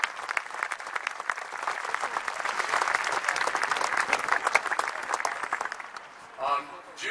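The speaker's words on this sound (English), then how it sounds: "Let's give them a round of applause." Audience applause at a Memorial Day ceremony in San Francisco, a dense steady wash of many hands clapping for about six seconds, then fading, with a brief voice near the end.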